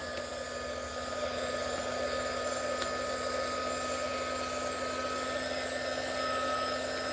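A hair dryer drying acrylic paint on a sunset palm tree painting, a steady continuous whir with a constant hum that holds evenly throughout, close and moderately loud with no talking.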